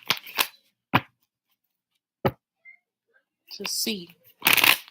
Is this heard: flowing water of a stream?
no